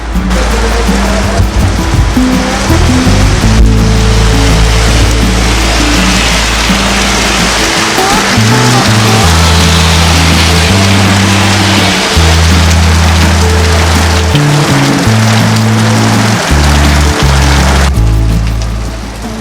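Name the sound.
heavy rain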